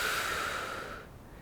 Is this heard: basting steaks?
no